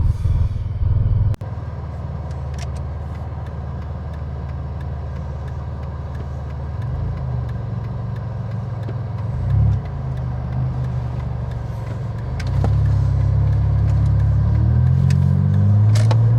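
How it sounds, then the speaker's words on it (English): A rebuilt car engine drives at highway speed above 60 mph, a steady loud rumble inside the cabin that swells as the car accelerates near the end. "This is actually the first time the car has gone over 60 miles an hour since I rebuilt it."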